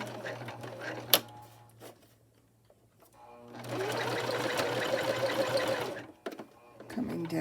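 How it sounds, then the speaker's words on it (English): A sewing machine stitches a quarter-inch seam on a denim skirt for an 18-inch doll, running in one steady, close burst of rapid whirring after a few faint handling clicks. "now I'm going to sew this, like I explained, 1/4 of an inch seam allowance."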